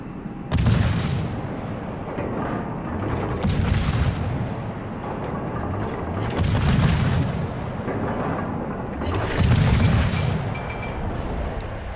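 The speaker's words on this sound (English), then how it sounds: "You can get off practically 4 volleys in the air at one time with this ship when you're shooting at distance" Naval guns on the Akizuki, a Japanese destroyer in the World of Warships video game, fire four heavy booming volleys, each a loud close blast at roughly three-second intervals, with rumble continuing between them and no talk.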